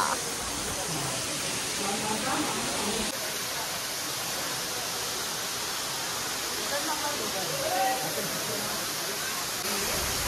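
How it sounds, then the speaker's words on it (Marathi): A waterfall roars in a constant, hissing rush of falling water, heard from a cave behind the falls, loud and unbroken, with faint voices half-buried in the noise. "दिस इज व्हेरी ब्युटिफुल गुफा आणि पीछे हो रहा है धबधबा."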